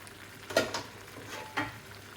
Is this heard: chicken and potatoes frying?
yes